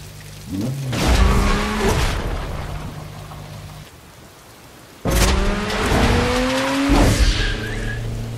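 An Audi R8 races in the video game Need for Speed Most Wanted, with loud engine revs rising through the gears and tire squeals in two bursts separated by a brief quieter gap.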